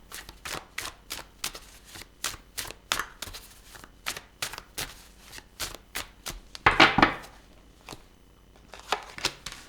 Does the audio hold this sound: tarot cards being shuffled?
yes